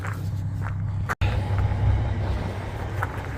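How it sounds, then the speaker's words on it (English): A truck backs up toward the end of a stepdeck trailer, a low, steady engine rumble that is close and continuous, broken by one brief dropout. "So I'll just back up to the end of the trailers right here."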